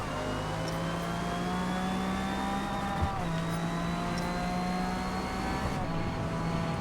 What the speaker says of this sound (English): that's an RX-7. No wonder you got a rotary